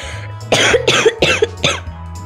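A person coughs in a quick series of four or five harsh, close coughs with short gaps, alone and loud.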